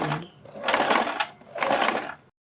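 A sewing machine stitches kurti neck strips in two short bursts of whirring runs separated by a brief pause, close and fairly loud.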